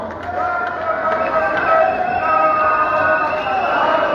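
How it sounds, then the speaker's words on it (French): A large crowd at the opening of a political convention cheers and shouts continuously with a broad roar of many voices and scattered calls, steady and moderately loud throughout. "des acclamations et des cris et des applaudissements dignes certainement"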